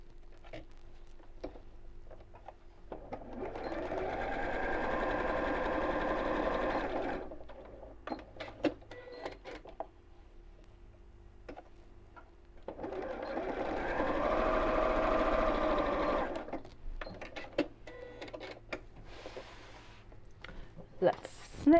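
A sewing machine runs in two steady bursts, stitching across the top and bottom of a large tie tote bag, with quiet handling clicks and rustles in the pauses between.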